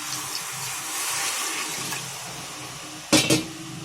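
Measured water pours steadily into rice in a pot for prawn biryani, a continuous close splashing rush, followed near the end by a couple of short sharp knocks.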